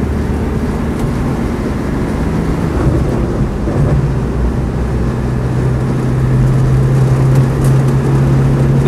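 A steady low diesel rumble of a Land Rover Defender 110 200TDi on mud-terrain tyres driving along, with continuous road and wind noise and no talking.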